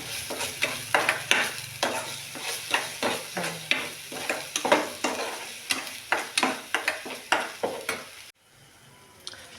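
Gram masala being sautéed in a pan for a cashew curry, with steady sizzling and regular stirring scrapes in a repeated rhythm, close and clear with no talking, ending abruptly into quiet.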